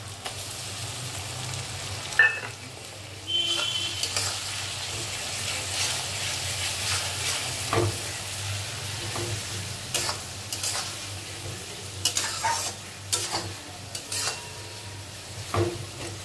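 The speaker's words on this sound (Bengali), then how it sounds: "এবার আমি দিয়ে দেবো পেঁয়াজ বাটা" Onion paste fries in a pan with softened onion and tomato, a steady sizzle under intermittent stirring scrapes and utensil knocks against the pot, with a low hum in the background.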